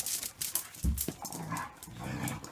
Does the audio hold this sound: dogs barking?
yes